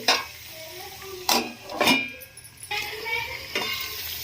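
Tomatoes frying in a pan for tomato chutney, with a soft sizzle under a few loud scrapes and clinks of a utensil against the pan, close up with no talking.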